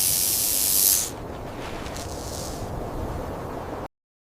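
A rattlesnake shakes its tail rattle in warning, a harsh, dry, hissing buzz that is loud at first, then drops to a softer sustained rasp before cutting off abruptly.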